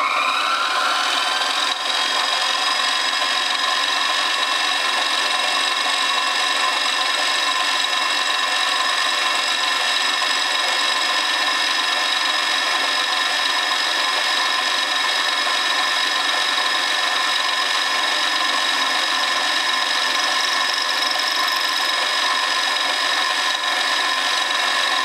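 A two-flute carbide cutter touches off along a metal edge on a lathe while forming a trepanning tool, giving a steady, even whir with sustained high tones and no voices throughout.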